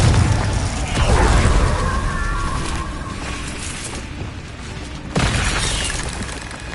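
Confringo blasting curse detonating in a Harry Potter video game: a heavy booming blast with crackling, shattering debris, then a second sharp burst near the end, loud and close.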